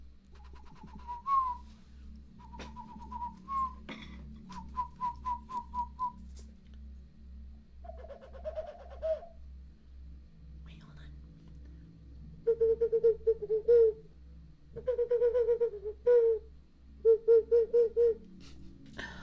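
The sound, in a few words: person imitating bird calls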